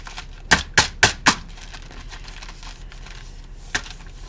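A typewriter clicks four times in quick, even succession as typing paper is rolled into place, followed by a pause and one more crisp click. The clicks are close and sharp.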